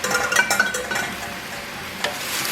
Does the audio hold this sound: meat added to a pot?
yes